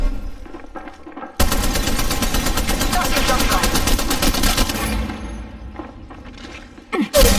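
Sustained automatic gunfire rattles in an Apex Legends-style mobile shooter, a rapid, loud burst lasting several seconds. Quieter game sounds come before and after it, ending in a short thump.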